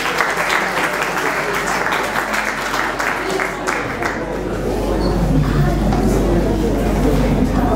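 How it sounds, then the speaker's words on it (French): An audience at a university oratory competition semifinal applauds steadily throughout, a dense, sustained wash of clapping with some voices mixed in. "sous vos applaudissements, s'il vous plaît."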